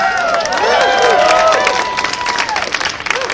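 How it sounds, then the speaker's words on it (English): A crowd at a poutine eating championship claps and cheers steadily, with whoops and whistles rising over the continuous applause. "how about a round of applause for Gideon OG, ladies and gentlemen?"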